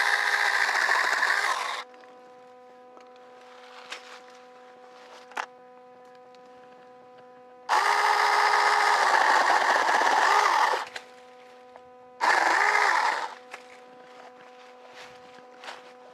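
Saker 20V cordless electric mini chainsaw cutting small half-inch branches: three loud, close bursts of high motor whine, separated by a steady quieter idle hum with light clicks and handling noises, no voices.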